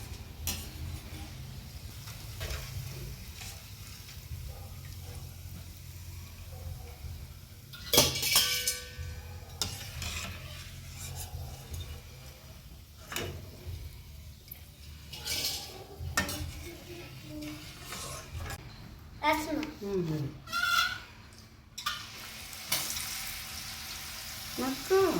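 Homemade murukku fry in hot oil with a soft continuous sizzle while a metal utensil clinks and scrapes against the pan as the crisp spirals are lifted out.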